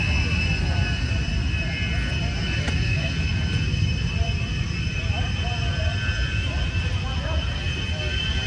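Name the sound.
Zenith aircraft engine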